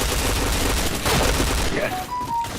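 Dense, continuous automatic gunfire from a video game shooter rattles loudly and close for the whole moment, with a faint electronic beep near the end.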